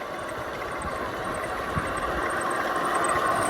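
A boat motor runs steadily during a boat ride in Pakistan, giving a continuous, even engine hum with a slight buzzing edge at constant loudness and no talking.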